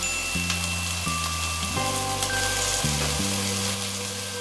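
Chicken pieces fry with chili in a pan for Filipino three cup chicken, making a dense, even, close-up sizzle with a soft crackle, like steady rain, over a faint tonal backing.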